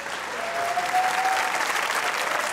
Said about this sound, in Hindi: उस परफॉर्मेंस के लिए एक तालियां होनी चाहिए